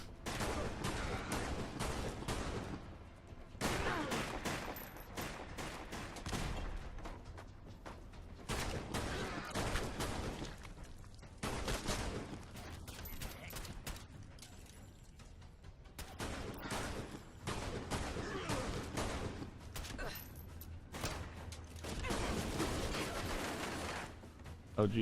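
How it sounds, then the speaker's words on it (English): Rapid gunfire in the video game Fallout London, dense and continuous bursts of shots over a busy, noisy game mix, with a voice talking underneath at times. "Oh geez, that's a lot of bullets."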